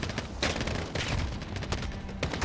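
Dense video-game gunfire from Call of Duty: rapid automatic bursts and overlapping shots crackle continuously at close range, loud and sustained with sharp spikes throughout, no voices over it.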